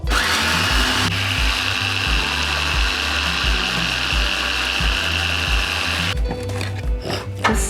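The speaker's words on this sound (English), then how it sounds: "my trusty, dusty food processor" A well-used food processor grinding leftover chips, a loud steady motor whir with rhythmic chopping pulses, then stopping abruptly near the end, with no talk.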